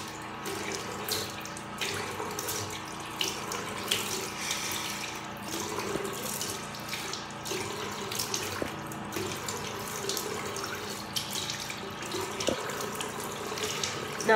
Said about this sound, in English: just wash it off with just normal water